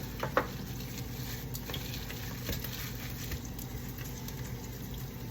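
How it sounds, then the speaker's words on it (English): Bacon sizzles and crackles in a hot pan with the heat switched off, a steady close frying hiss with a few sharper pops near the start and no talking. "Go ahead and turn this bacon off and just let it finish cooking in this hot pan."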